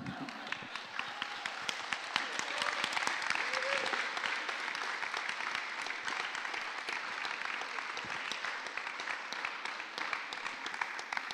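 Sustained audience applause fills a cabaret conversation event, a dense, steady wash of many hands clapping for over ten seconds at moderate level, with no talk over it.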